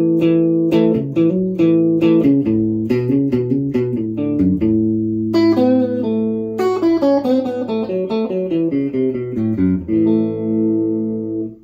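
Cheap Stratocaster-style electric guitar on the neck pickup, played as a continuous run of clean, ringing notes and chords with a light hum, loud and steady throughout.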